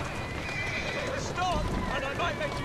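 A horse whinnies in Assassin's Creed Syndicate, a short rising-and-falling neigh heard amid hoof clip-clops and background game noise, with a voice speaking over it.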